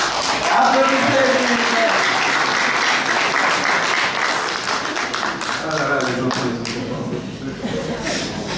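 A live audience at a children's quiz match in Paris claps and applauds steadily and loudly. Voices and a few cheers can be heard in the crowd.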